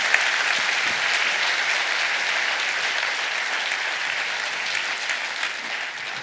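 An audience at a live debate applauds the two debaters with dense, sustained clapping that holds steady throughout.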